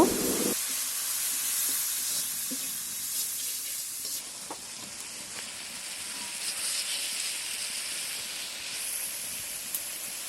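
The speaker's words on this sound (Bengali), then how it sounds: "এখন আমরা কড়াইয়ের মধ্যে তেল পেঁয়াজ মরিচ এগুলো দিয়ে মশলা দিয়ে মাছগুলো দিয়ে কষিয়ে নিব" Fish fries in a wok of oil with onion, chilli and spices, making a steady close sizzling hiss that runs throughout with only faint clicks and no talk.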